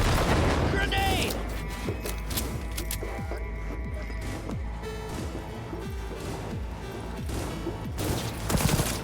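In the Cyberpunk 2077 video game, a grenade blast and bursts of rapid gunfire ring out, with repeated loud shots and booms over a dense, chaotic combat din while voices shout in the background.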